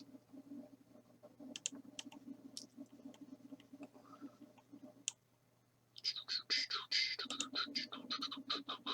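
Light keyboard typing: soft scattered key clicks under low murmured talk, then a denser burst of rapid, brighter keystrokes near the end.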